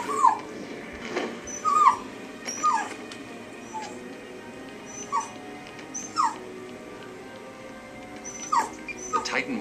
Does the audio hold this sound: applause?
no